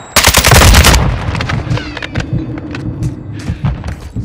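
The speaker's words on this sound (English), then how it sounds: "Throwing Semtex!" A Semtex grenade blast in Modern Warfare 2 hits loud and close, a dense burst of gunfire and a heavy thump in the first second, then scattered shots and rumbling debris trail off under a steady hum.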